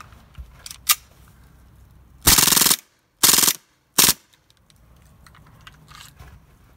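A CO2-powered airsoft gun fires outdoors in cold weather in three bursts, the first longer than the next two, each cut off sharply and followed by quiet, with a couple of faint clicks before them.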